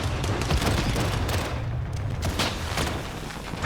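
Rapid bursts of video game gunfire crackle continuously with booms mixed in, a dense, busy barrage of pistol shots with no pauses during a co-op mission.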